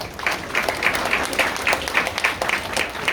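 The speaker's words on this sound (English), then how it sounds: "give everybody involved in Damini Women's a big round of applause as a special thank you" An audience at an International Women's Day event gives organisers a warm round of applause, a steady, dense clapping that stays even throughout.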